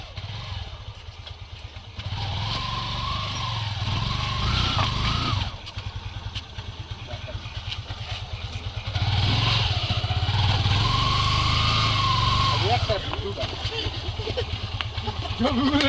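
Motorcycle engine rumbling and revving during extreme off-road biking, a steady loud drone that surges in two long bursts, with people talking over it.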